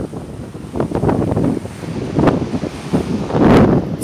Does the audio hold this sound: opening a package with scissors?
no